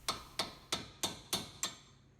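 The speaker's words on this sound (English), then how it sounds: "Then some taps with a hammer." A hammer taps a strut bolt into the steering knuckle of a 2007-2014 Ford Edge during front strut installation: six sharp, evenly spaced metallic strikes, close and crisp, each with a short ringing decay.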